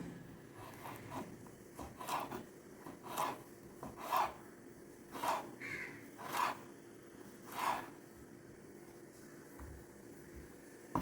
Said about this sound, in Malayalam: നമുക്കിത് ചെറിയ പീസായിട്ട് കട്ട് ചെയ്യാം